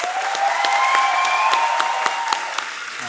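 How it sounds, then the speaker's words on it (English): A graduation-style school culmination audience gives a round of applause for two people, a brief burst of clapping under a faint sustained tone, with no voices. "can we give one more round of applause for Gus and Fernando"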